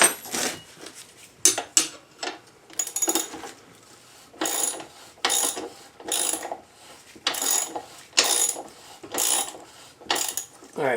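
Ratchet tightening an axle nut on a 2024 X-Pro Storm 150 DLX motorcycle, a series of close, sharp metallic clicking bursts in an uneven rhythm with short pauses between.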